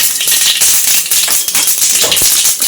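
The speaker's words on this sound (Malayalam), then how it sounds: "അതിലോട്ട് കടുക് ഇട്ട് കൊടുക്കാം. കടുക് പൊട്ടിക്കാം." Mustard seeds spluttering in two tablespoons of hot coconut oil for an Angamaly mango curry: a loud, dense, continuous crackle of rapid popping, close-up and without speech.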